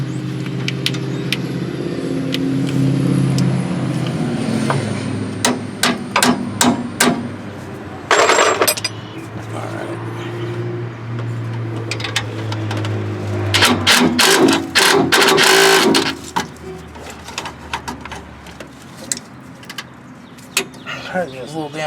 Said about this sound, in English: I'm just going to throw an extractor on my impact and pull that out of there.